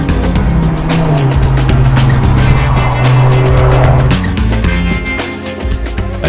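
A Mercedes A190 Twin, a small A-Class with two 1.9 litre engines making 250 hp together, accelerates hard; a loud, continuous engine roar with rising drone and some tire noise fills the whole stretch.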